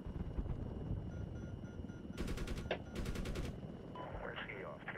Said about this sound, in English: All three mortars are still firing.